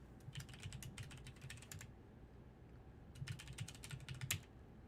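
Two quick bursts of computer keyboard typing, the first about two seconds and the second about one second, separated by a pause, with rapid irregular key clicks sounding close and fairly quiet over a low room hum.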